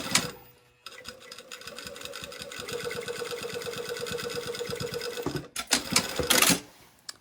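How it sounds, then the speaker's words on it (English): A sewing machine stitching a sleeve seam runs in one steady, close whirring burst of rapid needle strokes for several seconds, then slows and stops with a few louder clunks. "So I'm just going to sew in the seam allowance."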